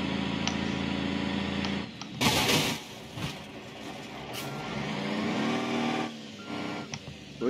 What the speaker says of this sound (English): First, we'll do just a straight up collision into this building.